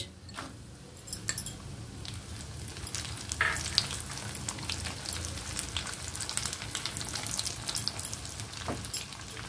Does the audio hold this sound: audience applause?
no